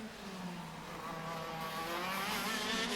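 A racing kart engine drops down through the gearbox at a New Zealand karting grand prix, its whine falling in pitch and then climbing again, loud and close throughout.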